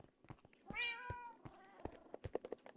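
A Minecraft cat meows once, a clear drawn-out mew with a rising then falling pitch, set among clicky game sound effects and footsteps with no talking over it.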